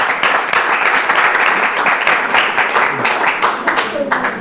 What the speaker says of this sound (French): Est-ce qu'on va les applaudir très fort?